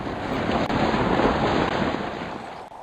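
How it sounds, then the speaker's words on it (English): Light wind rushing over the microphone aboard a sailing boat during a regatta, a steady broadband whoosh with water wash beneath, close and continuous with no talking. "And it's a really light wind."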